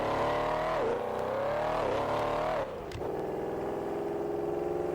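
A Ford fitted with a 9-liter naturally aspirated engine launches in the Assetto Corsa racing game, a loud continuous engine roar rising in pitch, a brief dip at a shift, then revving climbs again.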